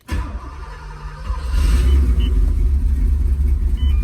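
A 1984 Porsche 928S fires up from a cold start, the starter catching and the engine settling into a loud, lumpy rumble close by, with no voices.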